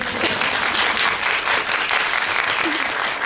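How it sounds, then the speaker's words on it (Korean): Audience applause fills a Korean cinema during a post-screening Q&A for the film Harbin with its actor and director; steady, dense clapping from a large crowd, loud and continuous throughout. "이제 박수 한번 주시죠."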